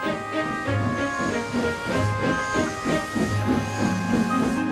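Rhythmic steam puffing with a steady hiss, chuffs repeating about twice a second under a bed of tonal, musical sound, fairly loud and close.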